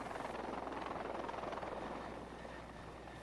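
A helicopter's rotor thumps steadily in a continuous rumbling drone, fairly close, fading slightly toward the end.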